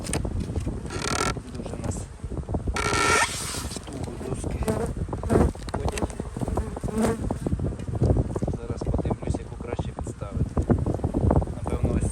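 Dense swarm of honey bees buzzing steadily around hive frames during an April colony expansion, a continuous close insect drone with occasional wind noise and a voice talking over it.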